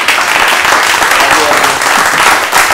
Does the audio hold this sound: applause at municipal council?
yes